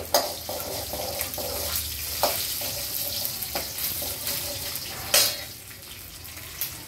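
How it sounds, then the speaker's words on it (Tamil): Carrot and brinjal pieces sauté in a pan for a chutney, giving a steady moderate sizzle broken by occasional stirring scrapes and soft knocks, close by, with a brief louder splash of sound near the end and no talking. "இது கொஞ்சம் நல்லா வதங்கட்டும்."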